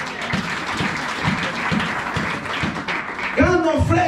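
A church congregation applauds, steady clapping with a rhythmic pulse running for several seconds, then a voice speaks over the end.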